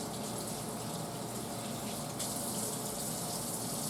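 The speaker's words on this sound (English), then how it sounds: "Let me wash my hands." Water runs steadily from a tap during handwashing, a dense, continuous close-up splash and hiss with a slight shift in tone midway and no talking.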